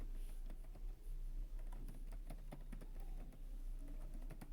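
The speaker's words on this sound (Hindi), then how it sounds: "तो यहाँ लिखता हूँ" A computer keyboard clicks in a steady, fast run of close key taps, typing code continuously over a faint background hum with no speech.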